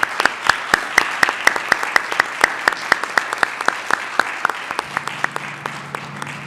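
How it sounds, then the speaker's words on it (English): Applause for city staff at a city council meeting, a small group clapping in fairly regular, distinct strokes, close and clear, thinning and slowing toward the end, with a low steady hum entering the room tone. "it would be highly appropriate to go ahead and give them a round of applause for the service they bring to our city"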